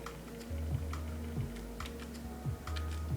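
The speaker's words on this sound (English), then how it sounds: "I'm using the up key and left and right keys to move between the fields" Computer keyboard keys on a Linux machine pressed in an irregular run of sharp clicks, close and moderately loud, with no talking.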